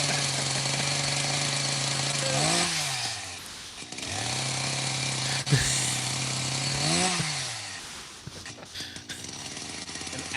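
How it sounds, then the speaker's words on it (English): A chainsaw revs repeatedly up and down, loud and close, its engine note rising and falling in several surges with a sharp clank in the middle. "An actual chainsaw."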